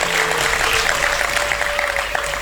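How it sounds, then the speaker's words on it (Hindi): A crowd at a Hindi kavi sammelan poetry gathering breaks into steady applause, a thick patter of many hands that carries on evenly throughout with a faint tone running underneath. "आप एक बार जोरदार तालियां बजाएं।"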